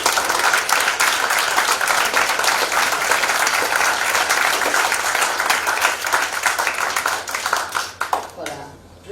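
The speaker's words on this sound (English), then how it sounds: "Ladies and gentlemen, a huge round of applause." A large audience gives loud, sustained applause at the close of a panel discussion evening. The dense clapping carries on for about eight seconds before it cuts off abruptly.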